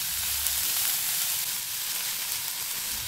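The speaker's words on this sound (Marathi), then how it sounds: "कांदा छान लालसर ब्राऊन होईपर्यंत परतून घ्यायचा" Chopped onion frying in a pan until soft and reddish brown, a steady close sizzle with a dense hiss running throughout without pause.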